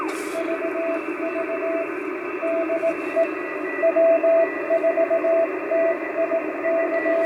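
A shortwave radio tuned to the 10-meter band's CW section on a long wire antenna hisses with band noise while faint, intermittent Morse code tones beep in short bursts, steady static underneath.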